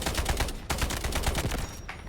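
Gunfire from a weapon in the military shooter video game Delta Force Hawk Ops, a loud close rapid automatic burst with a short pause before firing resumes, no talk.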